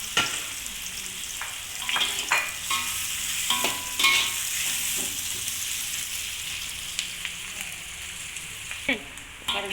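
Onions for nasi lemak fry in a pan with a constant close sizzle, punctuated by frequent spatula scrapes and knocks as they are stirred.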